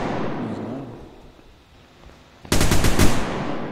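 Rapid automatic gunfire in the video game Unturned, a loud burst of closely spaced shots that starts abruptly after a quieter stretch and continues to the end.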